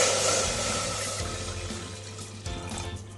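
A steady stream of water pours and splashes close by into a cooker holding half a kilo of chicken, easing slightly as it goes on, with no voices.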